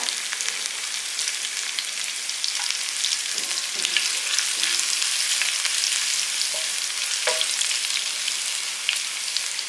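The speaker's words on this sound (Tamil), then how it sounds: "கடுகு பொரிஞ்சோடனே கொஞ்சோண்டு வெள்ளைப்புடு காரத்துக்கு தகுந்த மாதிரி பச்சை மிளகா" Mustard seeds, garlic and green chilli frying in hot oil, a continuous bright crackling sizzle with scattered pops and occasional stirring clinks, close and steady for the whole stretch with no voices.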